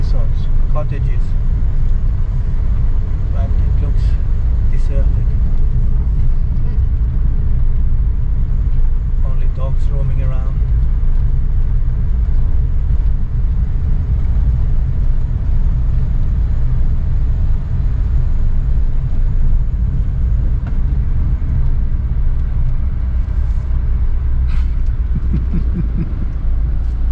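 A Suzuki Every Wagon drives along a coastal road, its engine and tyre rumble a steady, loud drone throughout, with a few faint clicks and a brief rise in road noise near the end.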